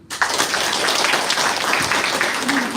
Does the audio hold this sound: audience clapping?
yes